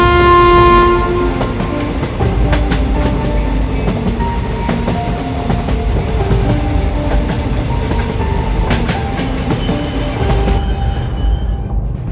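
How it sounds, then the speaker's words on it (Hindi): Cartoon train pulling into a station, loud steady rumble with squealing wheels, clickety-clack and a sustained horn, continuous throughout and close. "ये तीनों आपस में बात कर ही रहे थे, तब तक ट्रेन आ जाती है।"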